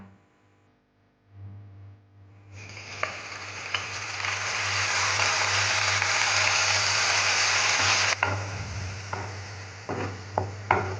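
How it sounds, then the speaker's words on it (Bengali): Spice paste hits hot mustard oil for a Bengali prawn malai curry, bursting into a loud, bright sizzle after a quiet start, holding steady, then easing with a few sharp crackles and utensil taps near the end. "তেল গরম হয়ে এসছে এখন দিয়ে দেব পেস্টটা"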